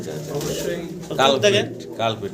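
Soft cooing of fancy pigeons rises and falls close by, mixed under a man's ongoing speech.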